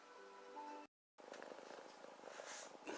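A cat shut inside a box gives a continuous low purr and rustling, close and fairly quiet, broken by a brief dropout.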